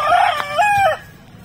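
A young rooster (stag) with green legs gives a single short, close crow, a rising then sustained call that cuts off within about a second.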